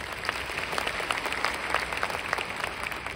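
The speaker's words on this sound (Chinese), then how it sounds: "需要给我们的 Riwi 一个掌声" An audience claps together at a celebratory gathering, producing dense, sustained applause of many hands at a moderate distance, holding steady without pause.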